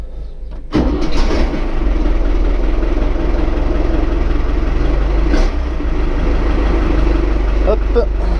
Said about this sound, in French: On va démarrer le tracteur.